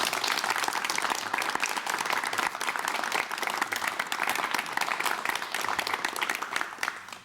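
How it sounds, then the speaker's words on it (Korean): A 1989 KBS television talk-show studio audience gives loud, sustained applause as a guest arrives, a dense patter of many hands that tapers off at the close. "여러분 박수로 환영해 주십시오."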